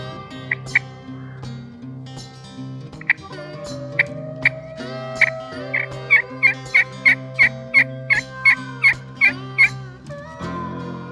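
Wild turkey gobbler on a morning farm hunt, gobbling in a long rapid series of sharp repeated calls, fairly near, over steady low background hum and some softer earlier gobbles.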